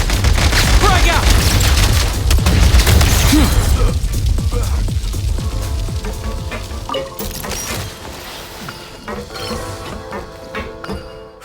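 A grenade blast in Genshin Impact lands as a heavy boom and crash amid dense battle noise, followed by a rumbling decay with scattered pops and a voice shouting over it.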